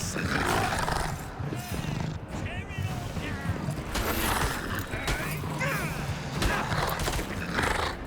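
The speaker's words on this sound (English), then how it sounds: "there's a warg" A warg from the video game LotR: Return to Moria roars and snarls in loud, rough bursts amid ongoing combat noise, with a voice talking over parts of it.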